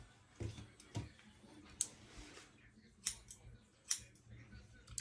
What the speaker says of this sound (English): So now I'm just trimming it, just to kind of make it even.